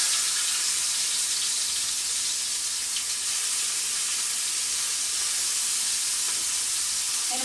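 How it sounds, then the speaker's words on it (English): A loud, steady sizzle fills the whole stretch, a bright crackling hiss of alligator meat frying close by in a hot pan, with no talking. "You want that, you want the sizzle."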